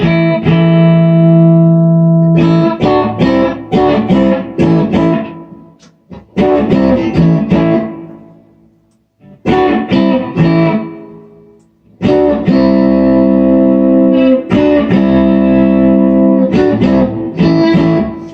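Clean electric guitar, an Epiphone Peter Frampton Les Paul Custom with pickups combined, strummed in bursts, chords ringing with a bright, full tone, broken by short pauses and a quiet stretch midway.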